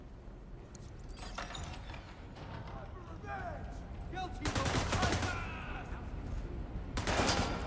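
A gun in The Division 2 fires in short bursts that build to louder rapid volleys toward the end, with mechanical clicks between and someone talking over it.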